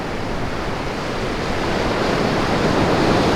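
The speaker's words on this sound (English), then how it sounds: "Check out the waves." Hawaiian ocean waves crash and wash continuously close by, the surf building slightly louder toward the end, with wind-like hiss and no talking.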